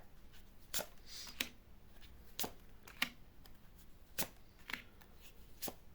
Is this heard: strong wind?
no